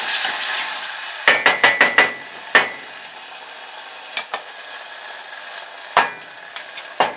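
A utensil scrapes and taps in a pan while gochugaru sauce is mixed over low heat for Korean chicken wings, with a burst of quick metallic knocks, then scattered single clinks under a faint background hiss.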